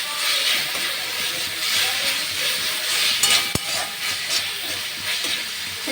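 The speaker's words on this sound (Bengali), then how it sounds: "একটু নেড়ে চেড়ে তারপর আমি এগুলো দিয়ে দেবো" Garlic paste stirred and fried in a pan, a steady close sizzle with soft scraping strokes and one sharp clack partway through.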